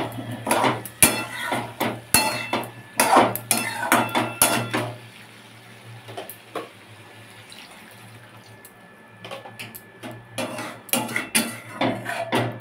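Water is poured into a pot of curry with potato and elephant foot yam, a soft, steady pouring rush in the middle, framed by sharp clanks and scrapes of metal utensils against the pot before and after.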